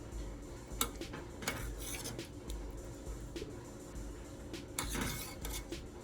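A spoon scooping Puerto Rican style beef stew with sauce onto rice, with soft clinks and scrapes against the dish, quiet and close, no talking.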